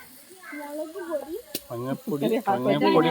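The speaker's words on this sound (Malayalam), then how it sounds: "ഇളക്കടാ. അവൻ ഇളക്കുകയാണ്." Spices, including turmeric powder and freshly picked chillies, sizzle in a pan as they are stirred, a soft steady frying hiss heard beneath several people talking over it.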